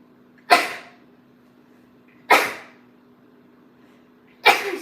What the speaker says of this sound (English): Hold on, I have a sneeze.